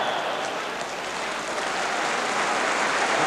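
A football crowd at Grimsby Town against Wolves in 1984 breaks into steady, even applause, a continuous wash of clapping heard from the stands with no clear voices over it.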